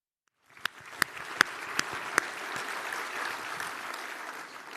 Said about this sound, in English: you guys are clapping so well that we've had some complaints